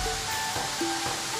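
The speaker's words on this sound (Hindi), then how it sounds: "ऊंचे से ये पानी गिर रहा है।" Water falls from a high hill in a waterfall during the rainy season, a constant loud rushing hiss with a few faint tonal whistles over it.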